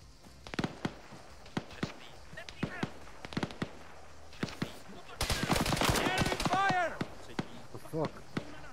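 Arma 3 gunfire, with sharp single shots and short bursts at varying distances and a dense automatic volley in the middle, mixed with a few brief whooshing sweeps.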